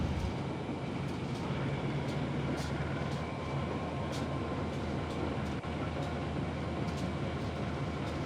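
A Matarmaja passenger train runs in Trainz Simulator with a steady, loud rumble of rolling wheels and engine drone, plus faint periodic clicks of the rails. The sound holds unbroken throughout, with no voices.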